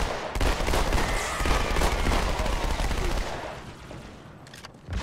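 Dense gunfire and explosions from the Halo 2 Anniversary video game form a loud, continuous burst of rapid shots and booms that eases off briefly before another blast near the end.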